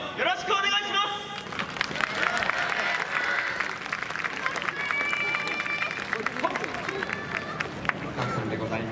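Crowd at a Japanese summer dance festival clapping and cheering as a dance team takes the stage, lively applause mixed with chatter and background babble throughout.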